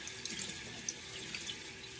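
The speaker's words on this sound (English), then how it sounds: "I like to soak this under warm water." Warm tap water runs steadily into a sink, filling it and soaking a muslin cloth, a continuous close splashing hiss with small spattering accents throughout.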